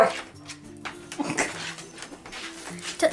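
A dog whimpers in thin, high whines, broken by a few short yips and barks, moderately close over background noise.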